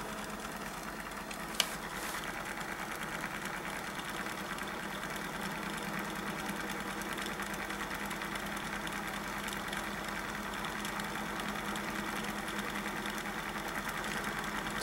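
A Quasi-Kromrey generator wheel runs as a steady, close mechanical whir and hum with a fine rattling buzz, holding at an even level throughout with no clear rise in pitch.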